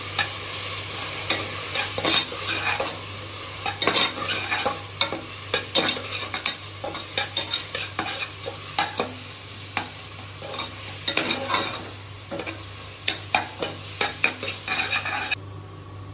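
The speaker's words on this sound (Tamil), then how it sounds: "நல்ல வாசம் போய் வதங்கிட்டுக்கலாம்" Ginger garlic paste with onions sautéing in hot oil in a pan for chicken kurma, a continuous loud sizzle broken by frequent scraping stirs of a spoon against the pan.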